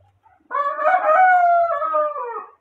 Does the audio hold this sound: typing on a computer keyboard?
no